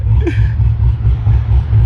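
A big-cam car engine idles with a choppy lope, a loud, close, low rumble that pulses unevenly throughout, with a brief faint voice near the start.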